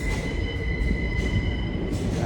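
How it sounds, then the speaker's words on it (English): A subway train rumbles into a station with a steady low roar and a sustained high metallic whine from the wheels, heard close and loud with no talking. "So hopefully that's my train."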